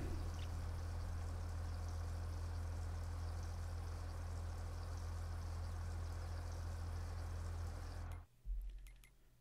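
Water pours steadily while strawberries are filled in Farming Simulator 22 on the Elmcreek map, a continuous even rush that cuts off abruptly near the end.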